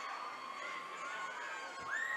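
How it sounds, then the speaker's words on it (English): Crowd noise at a varsity boys high school basketball game before tipoff, with student sections present: a steady, moderately loud wash of voices and shouting in a gym, rising slightly at the end. "The crowd getting amped and getting ready to go."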